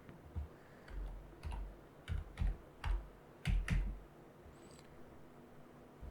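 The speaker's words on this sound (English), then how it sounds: "Then click this search and just type Discord." Keys tapped on a computer keyboard in a short run of soft, separate clicks, several close together mid-way, with quiet gaps between them and no voice.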